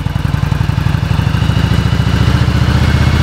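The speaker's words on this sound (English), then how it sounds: "you can now press the starter button and start the engine." A motorcycle engine fired with the starter button settles straight into a steady, loud, close idle, its low mechanical throb pulsing evenly with a clattering edge throughout.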